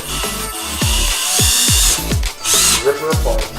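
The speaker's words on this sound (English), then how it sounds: "we're gonna drill a bunch of little holes through her" Power drill boring a series of small holes through a plastic piece during a computer build, repeated short revving bursts that rise and fall in pitch, loud and close, with brief gaps between holes.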